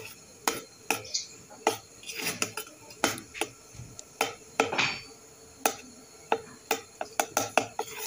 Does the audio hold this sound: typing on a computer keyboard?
no